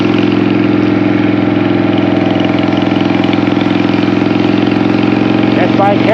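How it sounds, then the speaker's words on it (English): A 2002 Harley-Davidson Sportster motorcycle engine runs at a steady loud idle close by, an even throbbing rumble throughout with a faint rattle near the end. "This bike here is a little loud when you get under any acceleration, I mean any throttle when like going up a hill."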